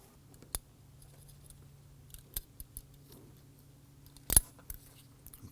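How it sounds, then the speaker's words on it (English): Pliers grip and pull the coil spring from an ignition coil boot on a 2003-2014 Volvo XC90 3.2L inline-six: sparse, sharp metallic clicks and snips over a quiet background, with one louder click near the end. "let's go ahead and grab some pliers and we're going to pull that out"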